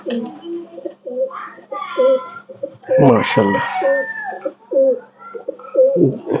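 Kuwaiti imported pigeons cooing close by in repeated throaty bursts, with a rooster-like crow in the middle and someone speaking briefly.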